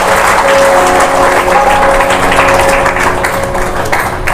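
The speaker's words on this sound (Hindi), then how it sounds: "एक बार फिर जोरदार ताली बजाएं।" A crowd at a Kabir bhajan satsang claps loudly and continuously, a thick wash of applause with a faint steady tone running underneath.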